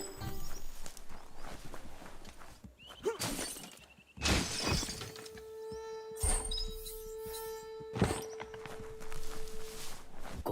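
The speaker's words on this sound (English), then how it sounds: "You shouldn't worry about smashing up the box." A wooden box is smashed in the action video game Biomutant, with loud crashing and breaking bursts, footsteps and steady tones between the impacts, and a sustained hum through the middle.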